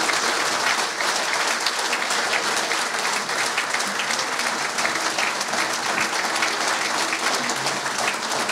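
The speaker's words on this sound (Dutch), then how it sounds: "Nogmaals een hartelijk applaus, dames en heren." Warm, sustained applause from a hall audience at a ceremony where the Almelo municipal council presents an honorary medal; even, dense clapping continues throughout without a break.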